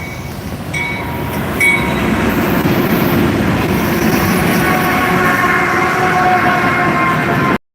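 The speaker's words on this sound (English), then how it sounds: "But yeah, we got a train coming." A train rumbles past close by, a loud steady roar of rolling wheels with faint metallic squeals and clanks, continuing until it cuts off abruptly.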